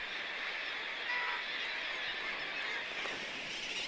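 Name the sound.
crowded guillemot colony on cliff ledges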